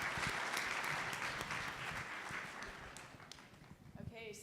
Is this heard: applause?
yes